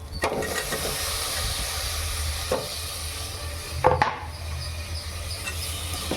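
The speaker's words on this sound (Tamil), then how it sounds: "இந்த பாருங்க, தக்காளி சேர்க்க போகிறேன்." Chopped tomatoes tipped into a hot frying pan for a vegetable biryani masala, giving a steady close sizzle and hiss with a few sharp scrapes and knocks of stirring.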